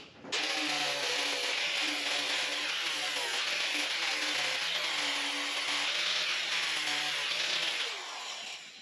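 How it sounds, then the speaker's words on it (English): A power tool grinds surface paint off an old heat pump ahead of welding, a loud, steady, harsh whine that runs almost without a break for about eight seconds. "I'm going to take some of the surface paint off because we're going to weld this"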